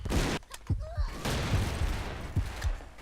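Scattered gunfire in the blocky shooter Brick Force, several sharp low thumping shots spaced irregularly over a noisy game background, with someone talking over it.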